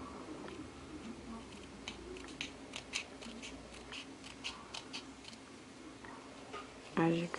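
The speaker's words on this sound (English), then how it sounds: "I'm just going to cut up like making a V" Scissors cutting a V shape into ribbon for a Hello Kitty Christmas boutique hair bow, a series of soft close snips under quiet talking, with a louder rustle at the end.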